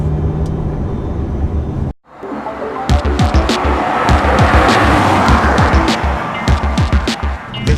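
A Bentley Supersports, rated to 204 mph, drives at high speed with a loud, continuous roar of engine and road noise. A brief dropout comes early, then the sound builds back with rough, rushing texture.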